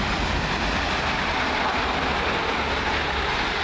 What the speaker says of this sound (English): 1 Bravo 74 for First Transpennine Express from Manchester Airport to Cleethorpes